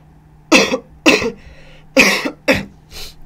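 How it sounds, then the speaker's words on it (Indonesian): A person with a cold coughs five times in quick succession, loud and close, the last cough softer. "batuk pilek"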